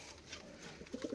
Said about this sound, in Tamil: இந்த கேஜில் வந்து 10 பேர்ட்ஸ் இருக்குது.